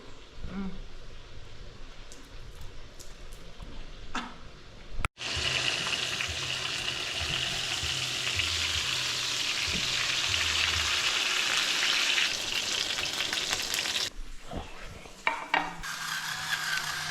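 A fish frame frying in a pan, giving a steady, loud broadband sizzle and crackle like rain that runs continuously for most of the stretch, with quieter kitchen handling noises before and after.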